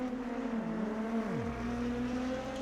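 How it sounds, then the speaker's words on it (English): A race car's engine in the Automobilista 2 racing game at the Estoril circuit in Cascais has trouble, its buzzing note sagging and then dropping sharply in pitch before settling into a lower, uneven drone. "So that sounds like a car having some issues."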